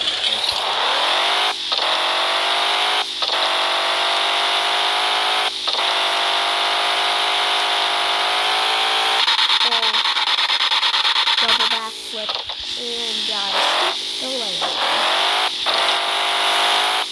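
A diesel truck with a rear stack revs in the Offroad Outlaws video game, a steady high engine drone with brief dips and surges between throttle changes, loud and continuous.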